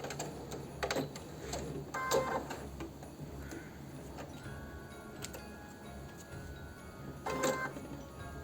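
At the end of a seam on cuffs and piping, a sewing machine backstitches in a quiet, steady run of ticking needle strokes, with a few brief louder clicks and a low motor hum underneath.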